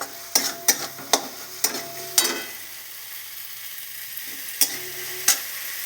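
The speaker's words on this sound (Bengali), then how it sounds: "মতো আদা বাটা নিয়েছিলাম, ওটা দিয়ে দিচ্ছি। এটা আমি ভালো করে ভেজে নেব।" Ginger paste and chicken frying in a pan, with a steady soft sizzle beneath a series of sharp scraping stirs and clinks, sounding close and fairly quiet, with no talking.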